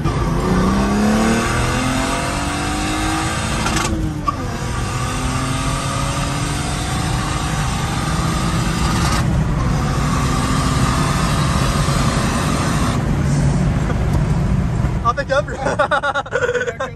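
A turbocharged BMW E36 engine roars and accelerates through several gear changes, loud and close, with brief dips between pulls and voices underneath.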